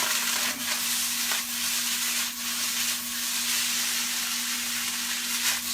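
Hibachi fried rice sizzles in a hot pan as it is stirred around, a steady soft hiss broken by a few scraping strokes, with no talking.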